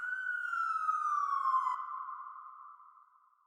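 A siren sweeps down in a single long falling wail, starting loud and clear, then trailing off into a steadier, fading tone, with no other sounds around it.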